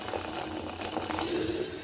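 Hot water poured onto desiccated coconut in a cold pan, a steady close liquid rush and bubbling hiss running unbroken and fairly quiet throughout, with no talking.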